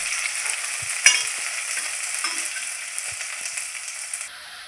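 Onions frying in a pan with oil for soya manchurian, a steady close hiss of sizzling throughout with a faint knock of the spoon early on and no talk.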